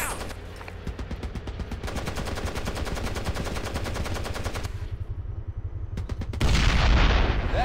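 Sustained bursts of hostile automatic gunfire in Ghost Recon Advanced Warfighter, rapid rhythmic shots rattling continuously for several seconds, pausing briefly, then resuming louder and heavier with booming impacts.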